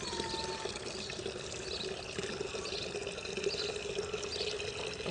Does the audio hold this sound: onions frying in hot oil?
no